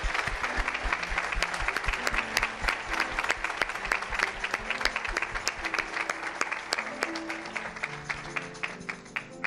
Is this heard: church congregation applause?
yes